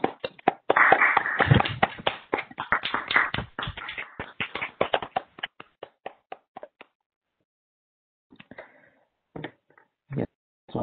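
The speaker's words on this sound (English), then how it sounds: "please unmute yourself to give Cameron a nice big applause" Online audience of a plasma acceleration and high energy density science webinar clapping through unmuted microphones: uneven, overlapping claps and taps that thin out, pause, then return as a few isolated claps.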